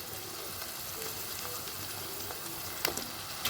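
Raw banana pieces fry with onion and green chilli in a pan, giving a constant close sizzle with a couple of sharper stirring sounds near the end.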